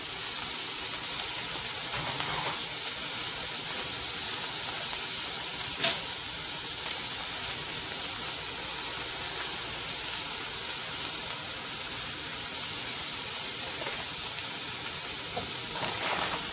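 Ground meat sizzling and frying in a single pot as taco seasoning is stirred through it, a steady close hiss with occasional scrape and clink of the spoon throughout.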